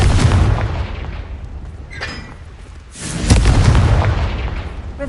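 A Confringo blasting spell goes off in the Hogwarts Legacy video game, a loud booming blast with rumbling low end, followed by a second heavy explosive burst about three seconds in, no talking.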